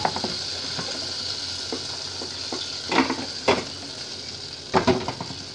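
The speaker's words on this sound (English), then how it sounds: "You can fry that veggies. You can use butter if you like, or oil." Vegetables frying in a pan with oil or butter, a steady close sizzle with a few louder scrapes and clatters from stirring.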